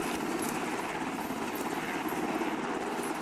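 Continuous rotor thrum of a helicopter in the Arma military video game, steady and fairly loud throughout with no pauses.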